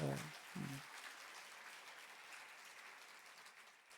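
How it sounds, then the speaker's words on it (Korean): Church congregation applause during a Korean pastor's sermon in Toronto, a soft distant patter of clapping that fades gradually after a few brief spoken words at the start. "박수로 좀 환영해 주시기 바랍니다."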